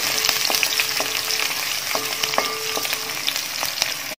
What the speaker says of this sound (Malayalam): ഒരു പച്ചമണം മാറുന്നത് വരെ ഒന്ന് വാഴ്ത്തി വെക്കാം